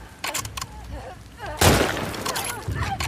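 Shotgun and other gunshots in The Last of Us Part II, several sharp blasts with a loud burst near the middle, mixed with game effects and a voice.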